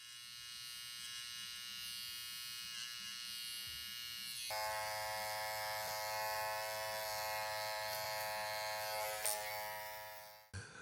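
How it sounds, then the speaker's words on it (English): Electric hair clippers trim a beard during a barbershop taper fade, giving a steady close buzz with a strong harmonic whine. The pitch shifts partway through as the load changes, and it stops abruptly at the end. "Use the quantity of clippers, follow that circular motion around the ear"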